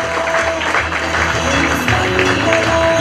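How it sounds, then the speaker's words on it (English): A large audience applauds at a business awards ceremony, with steady, dense clapping that fills the hall throughout, with no voices rising above it. "he calls for a very big round of applause for the..."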